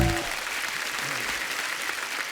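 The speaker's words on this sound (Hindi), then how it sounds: "राज साहब के लिए जोरदार तालियां होनी चाहिए यार." Studio audience applause on a televised comedy talk show, loud dense continuous clapping from a large crowd that fills the whole short stretch.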